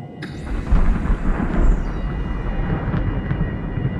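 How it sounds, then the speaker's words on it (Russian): Deep, sustained thunder-like rumble in the underwater video game SOMA on the ocean floor, starting abruptly and rolling on for several seconds with faint higher tones above it. "Гроза, что ли, собирается под этим?"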